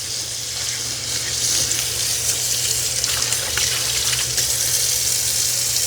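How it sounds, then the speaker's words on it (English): Tap water runs and splashes as the clean water tank of a Shark robot vacuum and mop combo is rinsed under the faucet, a steady close hiss with shifting gurgles and no talking. "I give the clean water tank just a quick rinse"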